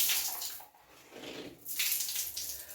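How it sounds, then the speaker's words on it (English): Clothes are washed by hand in a tub of water, with rushing, sloshing splashes that come in surges and ease off in between, close and fairly loud. "I have more clothes to wash"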